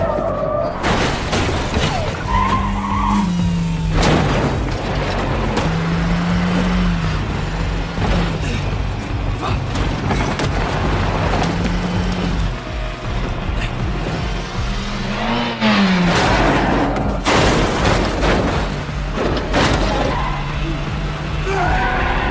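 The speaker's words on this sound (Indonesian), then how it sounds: "Aksi tembak-tembakan dan kejar-kejaran mobil pun kembali tidak bisa dihindarkan." A film car chase with gunfire on a long, smooth European motorway: loud, continuous engine roar with rising and falling revs, squealing tyres and sharp crashing impacts throughout.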